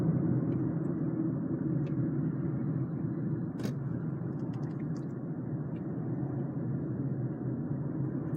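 Car driving through city streets in Norfolk, Virginia, heard from inside as a steady low engine and road rumble, with a few faint clicks and a brief tick partway through, no voices.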